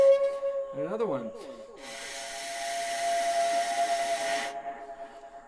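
A handmade experimental tube instrument is blown to produce a breathy, whistling tone that steps through overtones, with a few sliding pitch bends and then a long sustained hissy note, heard close and alone.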